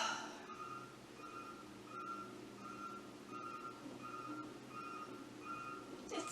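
A construction truck's reversing alarm sounding outdoors: steady evenly spaced beeps repeating about twice per second, moderately faint against a noisy background hum.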